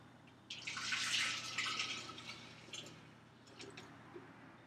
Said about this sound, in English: I'm going to pour this juice into here.